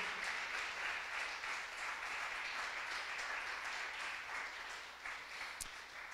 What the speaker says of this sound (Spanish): ¿Puede darle un aplauso al Señor Jesucristo?